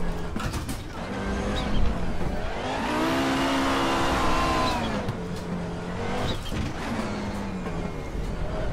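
An Audi 90 IMSA GTO race car in the RaceRoom racing game revs hard as it accelerates through the gears. The engine note climbs and dips with each shift, loud and continuous, with no talking.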